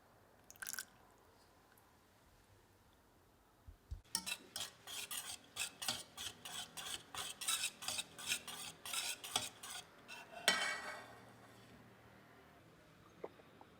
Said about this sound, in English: Into coconut milk, add vanilla and lemon zest and mix well until combined.